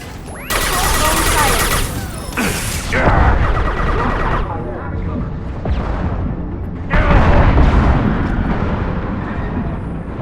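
Tanks blown up in Mass Effect 2 produce loud, booming blasts and crashing debris in several heavy waves, with rumbling gunfire-like crackle between them and voices talking in the mix.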